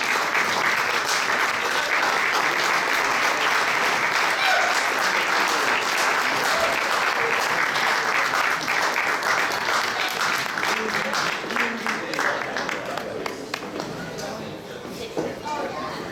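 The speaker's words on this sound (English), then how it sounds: "Let's give them a big round of applause." A crowd gives sustained, loud applause to a family called up at an award presentation at a Bavarian folk dance festival in Huntington Beach, and the clapping fades gradually toward the end.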